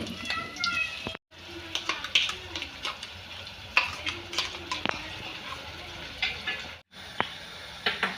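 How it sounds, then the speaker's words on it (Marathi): Ground masala paste frying in oil in a pan for a traditional tur dal amti, a soft sizzle with frequent clinks and scrapes of a spoon, quiet and close, with a couple of brief dropouts. "वाटण असं छान असं तेलामध्ये आपण परतून घेतलेलं आहे"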